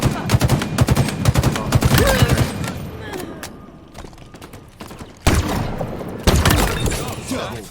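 Video game gunfire and grenade blasts during a double kill come in rapid bursts of shots and impacts, loud at first, then a quieter patch before sharp bangs return. A voice talks under the action.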